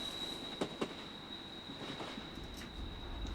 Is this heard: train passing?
yes